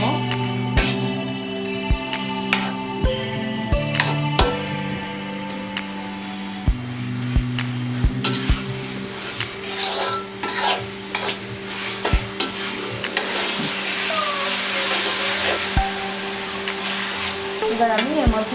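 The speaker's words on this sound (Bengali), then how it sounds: "সবজিটাকে ভালোভাবে নাড়বো।" Vegetables with tomato sauce, soy sauce and extra sauce are stirred in a pan for fried rice, a spatula clattering and scraping in repeated sharp knocks over a steady sizzle, with no talk.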